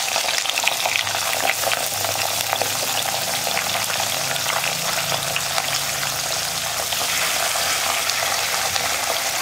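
Fish frying in hot coconut oil gives a dense, steady sizzle and crackle, close and continuous, with no talk over it.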